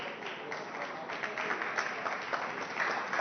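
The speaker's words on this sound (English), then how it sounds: "everyone is applauding you" Steady audience applause at a Fanatec esports GT Pro Series event at Monza, a dense wash of clapping from a crowd under a canopy, continuous and fairly distant throughout.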